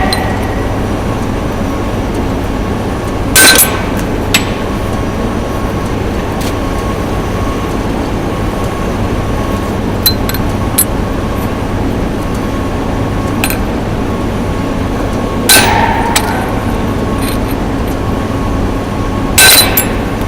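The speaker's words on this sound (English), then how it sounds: "by hammering, you can see the bearing is going on in" A bearing is hammered into a car serpentine belt pulley: a few sharp metallic strikes spaced several seconds apart, standing out over a steady low background hum, with no talking.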